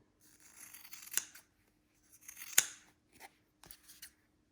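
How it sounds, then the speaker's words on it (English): Scissors trimming fabric around a cross-stitch holiday ornament: a few close, crisp cutting strokes, two longer snips followed by shorter clips, in a quiet room with no talking. "So I'm going to trim."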